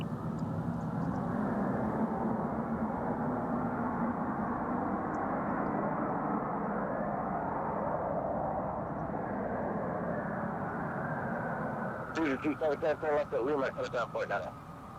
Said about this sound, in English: Getting all kind of whale noises this morning from engines that don't normally have whale noise.